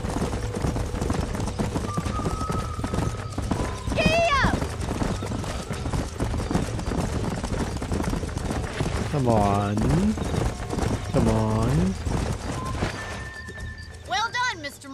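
A horse in the video game Red Dead Redemption on PS3 with steady hoofbeats and several loud whinnies, under nearly constant talk from the player and game characters.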